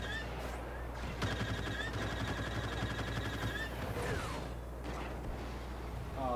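Turret gunfire in a Star Wars Battlefront game, rapid repeated blaster shots firing in bursts over a dense rumbling battle soundscape, loud and close, with a brief shout mixed in.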